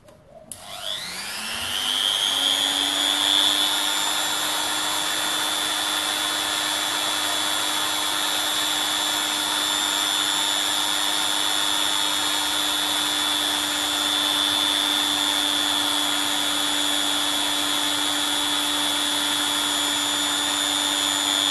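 A HILDA 400 watt die grinder set to its lowest speed spins up quickly, then holds a loud, steady, high-pitched whine for the full stretch, alone and with no talking.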